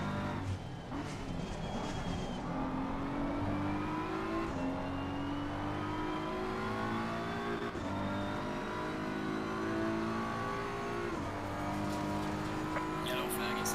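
A race car engine in the sim racing games Assetto Corsa Competizione or Gran Turismo 7 drones and climbs through gears in a steady, close, loud whine during a lobby race, with a few brief upshift dips.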